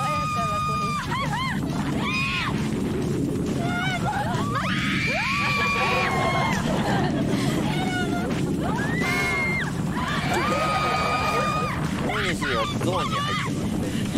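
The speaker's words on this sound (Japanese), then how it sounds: "落下直後、広島の口の悪さを封印し、お手本のような絶叫を見せる竹内" Riders scream again and again on a drop-style thrill ride. Their high, wavering shrieks rise and fall over a constant roar of rushing wind that buffets the microphone.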